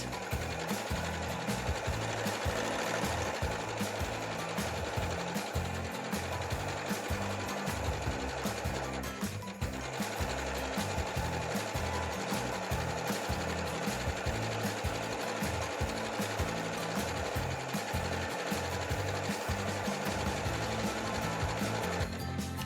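A sewing machine stitches fabric strip sets at high speed, a fast steady mechanical chatter running continuously and close, with a brief slowdown partway through.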